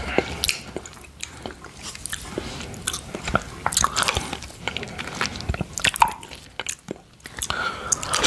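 Close, intimate eating sounds from cherry yoghurt with pieces of cherry flesh: soft wet squishes, smacks and chewing clicks in an irregular rhythm, loud and alone with no talking.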